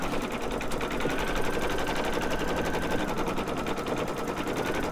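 Embroidery machine stitching in the hoop on a monster doll project, a steady, dense, continuous mechanical whirr with rapid needle pulsing, loud and close throughout with no pauses.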